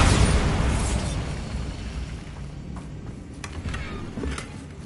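The Bombarda spell in Hogwarts Legacy goes off as a loud, close explosive burst that decays into a rumbling tail, followed by a few fainter clanks and pops.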